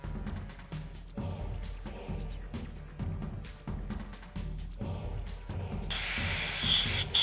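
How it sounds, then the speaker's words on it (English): An airbrush spraying Legion Surface Primer Black onto a Tyrannofex miniature base, a soft steady hiss in short bursts with pauses between, ending in a longer, brighter continuous spray. "I'm just going to use a airbrush, and we're going to be using the Legion Surface Primer Black for this"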